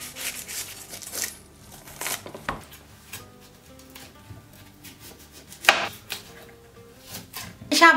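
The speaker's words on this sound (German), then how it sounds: "Ich habe einen Blumenkohl, den werde ich erstmal in Röschen schneiden." A knife cuts a cauliflower into florets on a board, with irregular crisp snaps and thuds, some louder chops near the end, plus soft rubbing and handling noise in between.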